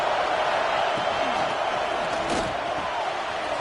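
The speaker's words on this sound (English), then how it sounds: "This crowd ready to make its presence known." Football stadium crowd roaring in a steady, dense wash of cheering at a live game, with a brief louder surge of shouts midway and no pauses.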